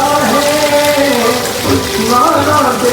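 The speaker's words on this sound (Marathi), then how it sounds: "नुसता पाऊस आहे, नुसता पाऊस." Steady, dense hiss of heavy rain pouring down, with voices and tonal sounds rising and falling over the downpour.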